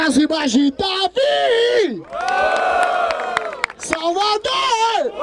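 Loud crowd at a Barueri rap battle semifinal cheering, yelling and whooping in sustained waves, with a swell of voices in the middle and shouts overlapping throughout.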